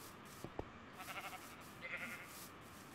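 Sheep in the Minecraft video game give a couple of short, faint bleats, quiet and alone with no talking over them.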